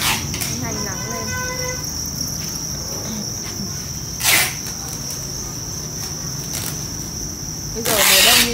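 Crickets kept in egg-carton trays on a Vietnamese cricket farm trill in a steady, shrill chorus close by on a sunny winter day, with brief bursts of rustling noise and a faint voice early on.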